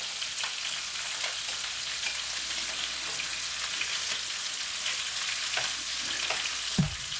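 Two medium onions fry in a pot, a steady close sizzle and crackle that carries through the whole stretch, with a few stirring scrapes and a soft clunk near the end, no voices.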